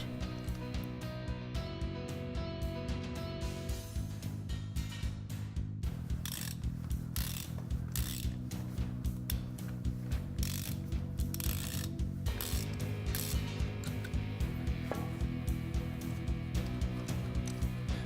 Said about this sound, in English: We take the special ACE tab from the repair kit for spark plug threads and put it on and cut the thread.